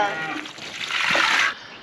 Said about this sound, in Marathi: ते बा फुल पाणी जायला लागले ते बा नळीन किती जोरात झाले